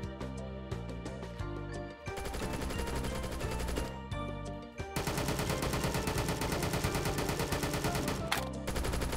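Rapid sustained gunfire in VRChat, a dense machine-gun stream of evenly spaced shots running almost continuously, loud and close, with brief gaps near 2 and 4.8 seconds.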